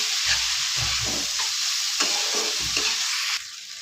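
Chili, turmeric and coriander powders are stirred in a sizzling pan for pasta, with a steady close hiss and repeated spatula scrapes in a loose rhythm, no voices.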